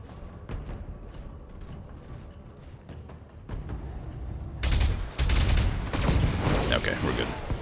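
Mech weapons fire together in the BattleTech video game, a scattering of sharp shots building into a loud, dense fusillade of overlapping blasts and booms that dominates the second half, with a voice talking underneath.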